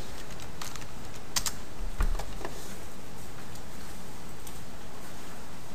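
Keys clack on a computer keyboard as a search term is typed, a short run of light, close taps over a steady background hum.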